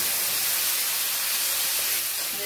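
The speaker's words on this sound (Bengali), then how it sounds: "আমার ঘি গরম হয়ে গেছে, ফোড়নটা দিয়ে দিলাম। এরপরে এই বাটা মশলাটা দিয়ে দিলাম" Ground spice paste hitting hot ghee with whole red chillies and cinnamon in the pan, making a loud continuous hiss that stays strong and even for the whole moment.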